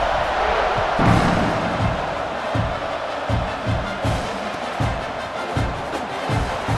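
A football stadium crowd at an OU versus Clemson game roars continuously at kickoff, a loud, dense wash of cheering broken by rhythmic low thumps like stomping or drumming.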